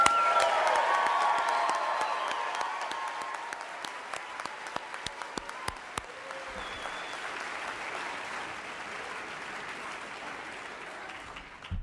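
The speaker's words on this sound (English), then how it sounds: "please join me in giving them another round of applause" Audience applause greets NASA's 24th astronaut candidate class at Johnson Space Center, a dense steady clapping from a large crowd that begins strong and gradually thins, with a few sharp individual claps standing out near the end.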